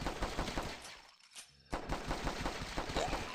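A pistol fires rapid repeated gunshots in The Last Stand flash zombie game, a dense rattling string of loud shots with a short pause before the firing resumes.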